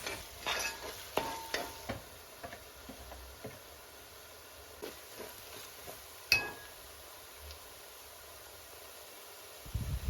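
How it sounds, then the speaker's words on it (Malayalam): Ginger garlic paste and masala being stirred in a nonstick pan for a chicken curry: soft scraping strokes and light clinks of a spoon over a faint, steady sizzle, close up, with no talking. "എല്ലാം നന്നായിട്ടൊന്ന് മിക്സ് ചെയ്ത് കൊടുക്കാം."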